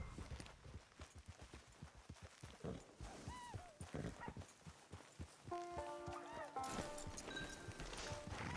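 Hooves clip-clop at a steady trot during horse riding in the video game Red Dead Redemption 2, rhythmic and fairly close, with voices talking over the footfalls and game music rising toward the end.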